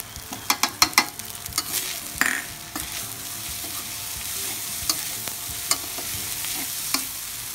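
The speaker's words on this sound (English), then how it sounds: "And now we're going to add some spring onion." Shrimp fried rice with spring onion stir-fried in a pan: a close, steady sizzle broken by sharp scraping and clattering strokes of the spatula, busiest at first and then spaced more sparsely.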